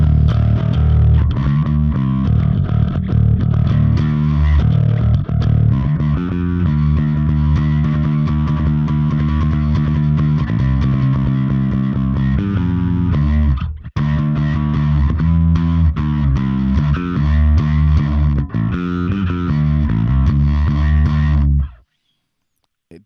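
A bass guitar through a Lusithand Devices Ground N Pound distortion pedal plays a loud, gritty riff with sustained chords, a brief pause midway, then cuts off abruptly at the end.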